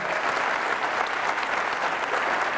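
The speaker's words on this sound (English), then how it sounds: "Let's give them a round of applause for hosting us tonight." Audience applause fills a church concert hall at a concert hosted by Christian Fellowship Church, a dense, steady wash of many hands clapping together at close range without pause.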